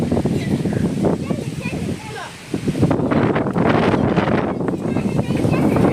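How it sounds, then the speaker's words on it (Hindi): Strong wind roars steadily across the microphone outdoors in a village, gusting and buffeting with a brief lull midway, while a voice talks over the noise. "देखो भाई हवा अब बढ़ गए, अब ज़्यादा तेज हो गए।"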